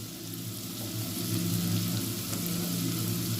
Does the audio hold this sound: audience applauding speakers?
no